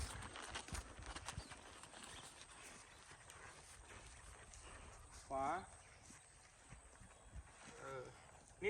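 An Appaloosa horse walks under a rider, its hooves giving a steady, soft clip-clop close by while people talk over it, with a brief louder bump partway through.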